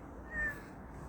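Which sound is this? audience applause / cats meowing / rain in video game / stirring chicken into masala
cats meowing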